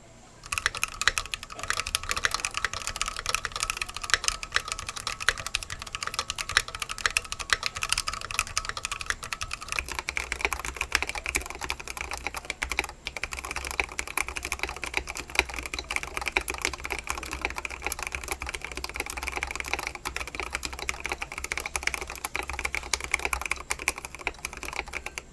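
Continuous computer keyboard typing for a before-and-after sound test, the keyboard padded with polyfill or cotton; steady close keystroke clatter throughout, its tone turning deeper and more muffled about halfway through.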